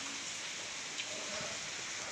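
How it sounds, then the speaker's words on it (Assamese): Heavy rain pours steadily during a flood, a dense, constant hiss of downpour with no pauses and no voices. "ইমান বৰষুণ দিছে ভয়ে লগা হৈ গৈছে"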